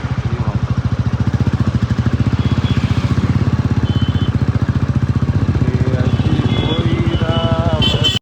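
Motorcycle cruising on the road on a long ride from Kashi to Ayodhya, with a loud, steady engine thrum heard close from the rider's position throughout and a few faint higher sounds at the end.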